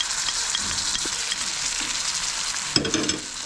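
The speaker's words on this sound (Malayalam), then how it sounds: "ഇനി അതിലേക്ക് നമ്മൾ നേരത്തെ തന്നെ വേവിച്ച് വെച്ചിട്ടുള്ള തക്കാളി കൂട്ട് ചേർത്ത് കൊടുക്കാം." A cooked tomato mixture hits hot chili powder in a pan for Kerala-style tomato pickle, giving a steady close sizzle with soft stirring scrapes and a louder burst of frying near the end.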